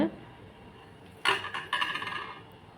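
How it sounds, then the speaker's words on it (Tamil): Leftover rice being stirred with salt in a pan, heard as a couple of short scraping, clinking strokes of a spoon against the pan after a quiet moment. "நல்லா கிளறிக்கோங்க உப்பு வந்து எல்லா இடத்துலையும் மிக்ஸ் ஆகிற மாதிரி நல்லா கிளறிக்கோங்க"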